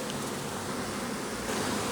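Honeybees buzzing at an open beehive during a frame inspection, a dense steady drone of many insects close by with no voices.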